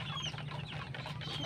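A rooster, a pet that is unwell and has trouble with its foot, clucks and murmurs softly and steadily at close range over a low background hum.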